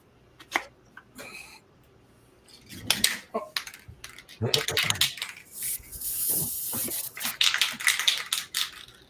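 A spray bottle mists a painting in several short, sharp hissing bursts, with soft handling clicks and brief talk between them.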